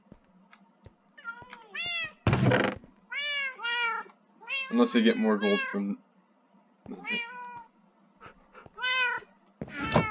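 Cats in Minecraft 1.12 meow repeatedly in short, high, rising-and-falling calls spread across several seconds, clear and close, with a brief muffled voice heard once between them.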